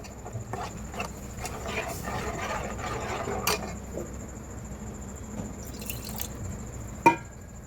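Water is poured into idly kurma cooking in a pan, giving soft splashing and dripping with scattered small clicks and a sharper clatter near the end, close by and moderately quiet.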